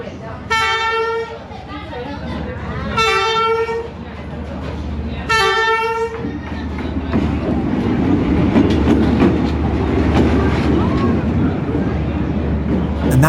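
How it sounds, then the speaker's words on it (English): A train in Hanoi's Train Street gives three long horn blasts, then rolls past with a loud, continuous rumble and clatter, while voices sound faintly in the background. "This train wasn't on the schedule we were given."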